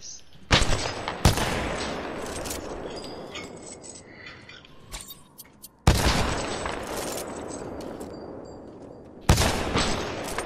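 Video game gunfire in repeated loud bursts, each opening with a sharp crack and trailing into rattling, clinking shots and debris, with quieter gaps between four main volleys.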